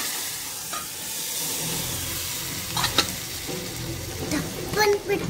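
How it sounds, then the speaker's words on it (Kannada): Dal saaru is poured into a pan of fried onion tempering, and the hot oil crackles and sizzles loudly and close up, with sharper hissing bursts as the liquid hits the pan. "ಈರುಳ್ಳಿ ಚೆನ್ನಾಗಿ ಫ್ರೈ ಆಗಿದೆ ಕಲರ್ ಕೂಡ ಚೇಂಜ್ ಆಗಿದೆ ಇವಾಗ ನಾನು ಅವಾಗಲೇ ಮಸ್ಕೊಂಡಿದ್ನಲ್ಲ ಆ ಸಾರ್ನ ನಾನು ಒಗ್ಗರಣೆಗೆ ಹಾಕೊಳ್ತೀನಿ"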